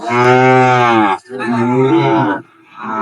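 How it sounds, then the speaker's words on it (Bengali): A bull calf moos loudly and close at a cattle market, one long drawn-out low call followed by a second shorter one, with a brief pause between. "সুন্দর গরু"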